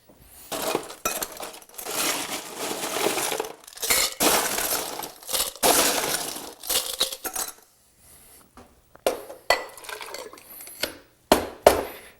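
Ice rattling hard in a cocktail shaker while a creamy Brandy Alexander is shaken, dense clattering bursts for several seconds, then a pause and a few sharper shakes and clinks, close up with no voices.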